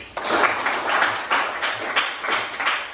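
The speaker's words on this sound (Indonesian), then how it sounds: "Tepuk tangan dulu untuk anak Bapak Olive" A classroom of students claps together for a classmate in a steady rhythmic beat of about ten roughly even claps, moderately loud and close, with faint room noise underneath.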